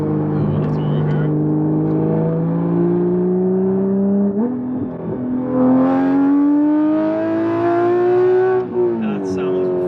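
A Porsche 911 GT3 (992) six-cylinder engine revs up through the gears, its tone climbing steadily in two long pulls, loud and close.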